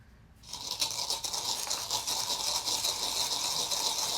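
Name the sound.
salt being crushed in a mortar with pestle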